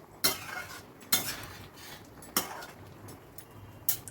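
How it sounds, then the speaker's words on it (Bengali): A spoon clinks against a pot while fish roe koftas are stirred into simmering dal, giving four sharp, spaced metallic knocks over a soft bubbling background, close and moderately loud with no talking. "কতগুলো মাছের ডিমের কোপ্তা আমি ডালের ভেতর দিয়ে দিলাম, দিয়ে এগুলো একটু নাড়াচাড়া করে মিশিয়ে নিচ্ছি।"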